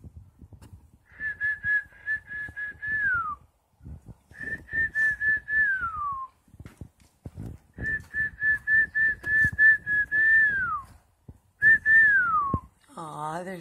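Inside a cabin at Newtown Battlefield State Park, a person whistles to baby birds in a nest: four clear, trilling phrases, each sliding downward at its end, with soft rustling and a faint chirpy burst at the close.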